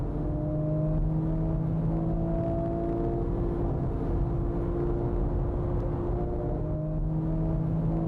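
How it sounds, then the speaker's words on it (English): A Porsche GT3 and a Honda Type R race side by side down the straight at Fuji circuit, their engines giving a steady, loud droning whine with sustained tones that shift slightly in pitch, with no voices. "The GT3 jumps into the slipstream of the Type R."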